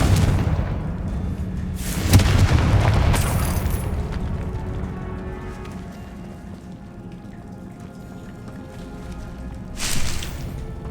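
The Confringo spell in Hogwarts Legacy sets off booming explosions, with a loud burst near the start and another near the end over a steady crackling, rumbling background.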